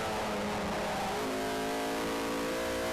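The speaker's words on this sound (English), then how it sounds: "It's the Sierra Cosworth, clearly struggling." A Ford Sierra Cosworth race car at Brands Hatch, clearly struggling, drones past with a steady engine note that shifts pitch partway through, heard at moderate distance under a wash of broad noise.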